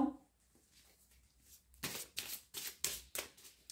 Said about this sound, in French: on va encore tirer quelques cartes